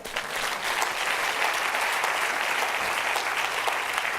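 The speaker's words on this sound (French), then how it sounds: "acclamons Jésus pour ce qu'il fait" A church congregation applauding, a dense sustained round of clapping from many hands that fills the space evenly from start to finish, with no speech over it.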